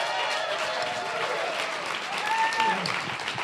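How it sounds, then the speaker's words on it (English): An audience at a psychiatry forum applauding for the speakers, a steady, dense wash of clapping from a crowd held at an even level throughout, with a few faint voices beneath it. "Let's make a massive round of applause"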